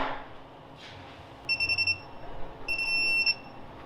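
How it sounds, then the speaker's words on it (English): A torque wrench set to 22 beeps as a wheel fastener on a beadlock wheel nears torque, giving two short bursts of high electronic beeping over faint background noise. "Now, I have this set at 22, so it's beeping to let me know, hey, you're getting close."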